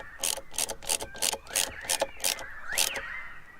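A ratchet cranks a hose clamp tight onto the plastic J1 adapter of a pod air filter on a Mk7 Ford Fiesta ST, giving about eight close, sharp bursts of clicking in an irregular rhythm.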